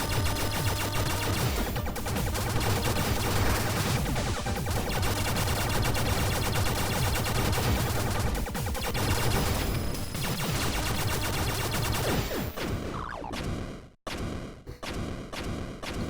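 Rapid wave turret gunfire from the video game Blaster Master Zero rattles continuously under dense game music, then cuts out abruptly near the end, followed by scattered bursts.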